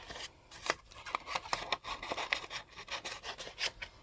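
Scissors trim a piece of ink-colored paper for die crafting, giving close, quiet snips and rasping cuts in an uneven run of short strokes.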